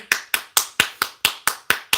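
Eight sharp hand claps in a steady, evenly spaced rhythm, close and fairly loud, with no talking.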